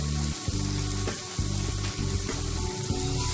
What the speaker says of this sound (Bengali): দিয়ে মশলাগুলোকে ভাজা ভাজা করব